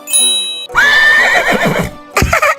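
A loud, close horse whinny plays as a comedy sound effect, rising then wavering for about a second, followed by a short snorting burst.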